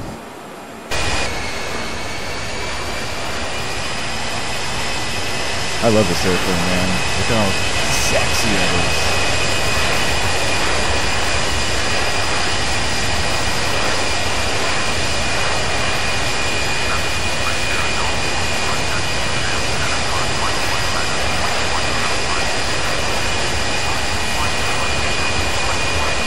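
ERJ-145 jet engines heard from an outside view in a flight simulator video game, a loud, constant, piercing whine and roar that holds steady throughout, with someone speaking briefly over it.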